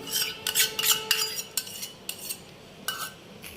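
Metal spoon scraping and clinking around a kadai of mango masala being stirred, a run of short bright scrapes and taps at close range, with no voices.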